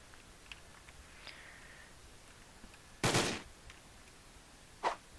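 Gunfire in the Roblox Zombies video game on the Shi no Numa map comes as two short bursts, a longer loud one in the middle and a briefer one after, over a quiet background.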